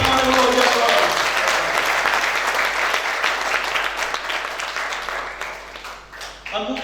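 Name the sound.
congregation applause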